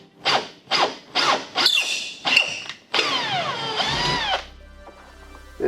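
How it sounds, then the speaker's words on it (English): A handheld drill bores holes during a DIY nitrous oxide install on a V6. Several short, close whirring bursts give way to a longer run that winds down, with no talking. "Try to get the drill as straight as possible."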